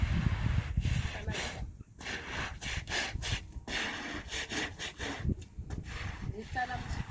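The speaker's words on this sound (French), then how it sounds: "Je brosse. C'est mon balai picot, c'est le balai tout-terrain." Stiff-bristled all-terrain broom scrubbing a surface, giving rough, repeated rasping strokes up close, loud and rhythmic, with someone speaking between the strokes.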